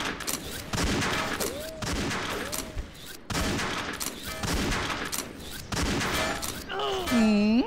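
Rapid gunfire from the shooter video game XSHOT in a deathmatch, sustained bursts of loud shots with game sound effects, ending in a rising electronic whine, with voices faintly under it.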